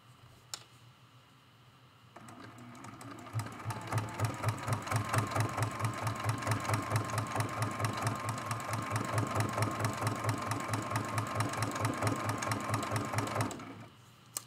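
A sewing machine stitches a hummingbird and flower quilt as the fabric is guided around, giving a loud, steady, rapid mechanical chatter that starts softly and then runs at full speed for about eleven seconds before stopping.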